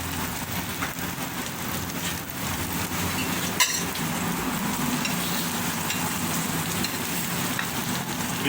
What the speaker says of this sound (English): It's just shallow frying it